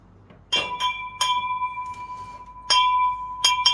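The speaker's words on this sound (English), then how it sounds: "you can use a bell" A metal bell rings with sharp repeated strikes, each leaving a clear sustained ringing tone, struck about five times at irregular intervals, fairly close and alone with no talking.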